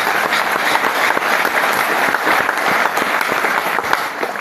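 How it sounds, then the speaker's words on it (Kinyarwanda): Sustained applause from a gathered crowd, dense continuous clapping at a steady loud level throughout, with no voices standing out. "Imana amashyi cyane."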